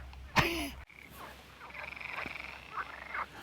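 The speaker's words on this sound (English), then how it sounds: "Do you hear the frogs?" Frogs croak near a hard running trail, a loud close call at the start followed by a steady chorus of repeated croaks and trills continuing throughout.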